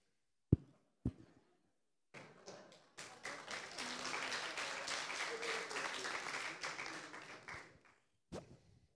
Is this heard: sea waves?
no